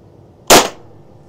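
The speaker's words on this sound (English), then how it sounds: "One more shot." A single sharp shot from a high-pressure PCP air gun fills the quiet for about a quarter second and then decays, with no one talking.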